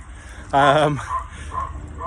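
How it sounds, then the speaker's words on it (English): An unhappy dog inside a house lets out one loud, drawn-out whining bark, followed by a few fainter yelps at a distance outdoors. "that dog doesn't sound happy in that house"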